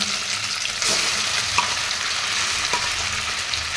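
Milk and poha mixture sizzles and fries in hot ghee in a pan, a steady close hiss with a few stirring scrapes and clinks, no talking.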